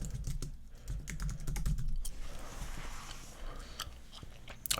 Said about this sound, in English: I really gotta type with 2 hands